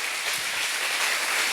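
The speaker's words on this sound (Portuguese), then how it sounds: "Vamos aplaudir a Jesus." Church congregation applauding, a steady dense wash of clapping from many hands filling the room without a break.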